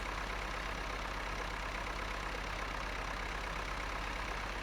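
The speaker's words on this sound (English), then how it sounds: "Fad and I are doing some ballet here with our tractors." Tractor engines idle steadily in the farming video game Farming Simulator 2013, a constant low rumbling drone at moderate level with no breaks or changes.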